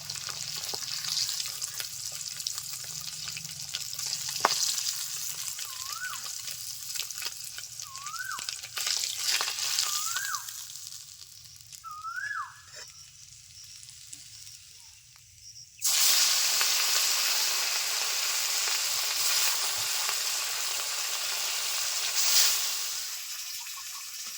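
Katla fish pieces fry red in oil with a continuous close hiss and sizzle, marked by a few faint rising chirps early on. The frying grows noticeably louder and brighter in the second half.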